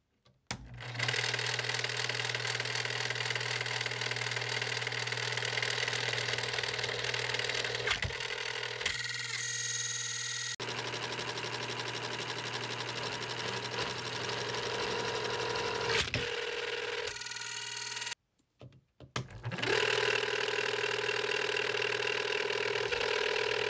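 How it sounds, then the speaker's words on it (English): A LEGO shredder driven by a half-horsepower motor grinds a wiener, giving a loud, steady mechanical whine that falters, cuts out briefly near the end, then starts up again. "We're going to see what happens if I put this wiener in the shredder."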